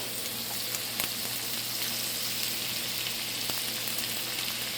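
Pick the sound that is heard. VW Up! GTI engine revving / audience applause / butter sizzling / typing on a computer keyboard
butter sizzling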